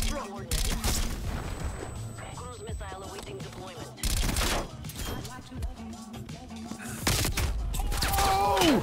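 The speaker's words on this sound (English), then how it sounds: "Who's shooting me?" Gunfire in the video game Call of Duty: Cold War, with loud bursts of automatic fire and several sharp shots in repeated clusters, mixed with a player's voice talking over it.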